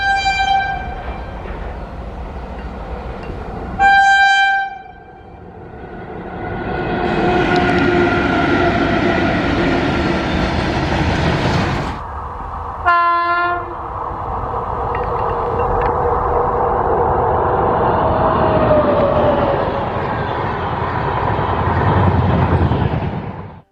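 A WAP7 electric locomotive in Republic Day livery sounds its horn in loud blasts, then rumbles past with a long, steady roar of wheels; a second horn blast cuts in midway.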